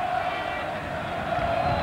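Large crowd at a TC 2000 touring car race in Rafaela, Argentina, roaring and cheering in a dense, continuous wash of noise that fills the short stretch.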